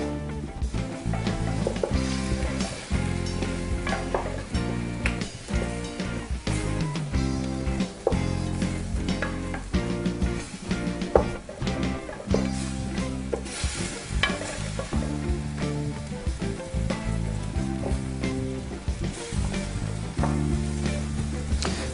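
Chicken with garlic, saffron and vinegar sizzles and fries in a pan with steady crackling, broken by the scrape and clatter of stirring, close up and with no talking.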